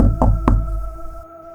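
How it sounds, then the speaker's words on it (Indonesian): Two sharp knocks on a wooden door, close and loud, spaced about a quarter second apart, followed by a short fading ring and quiet. "Seru Febri mengetuk pintu kayu."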